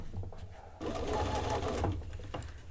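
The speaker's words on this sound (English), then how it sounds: "you're stitching along here" A sewing machine with a walking foot stitches through thick, non-fusible interfaced fabric on a zipper pouch. A short quiet pause is followed by a loud, steady mechanical run of close stitching.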